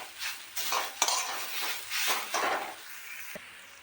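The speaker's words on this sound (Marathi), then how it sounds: "त्याला मिक्स करून घेऊ." Bottle gourd halwa with raisins, dry fruits, poppy seeds and cardamom being stirred in a pan, close scraping strokes in waves over a soft sizzle, with one sharp utensil knock.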